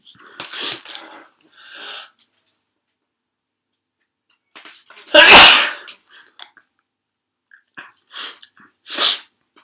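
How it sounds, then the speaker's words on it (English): A handful of sharp sneezes, close and loud: a couple early, one big burst in the middle, then a few smaller ones with breaths between. "just had the sneezes there"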